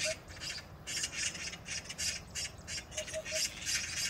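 Magpies chatter noisily in a crowd on a power line, harsh rapid squawks repeating in bursts throughout over a steady outdoor background hum.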